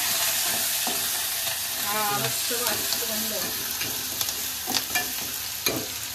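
Ginger garlic paste and curry leaves frying in hot oil, a loud continuous close sizzle and crackle with occasional sharper pops and light stirring, while a voice is faintly heard briefly.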